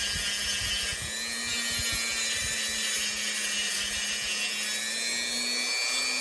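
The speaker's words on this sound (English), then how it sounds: "I'm going to polish those out." A small polishing tool buffs scratches out of a piece of jewelry, giving a steady high-pitched motor whine that runs throughout and dips slightly at times, with faint low thumps early on.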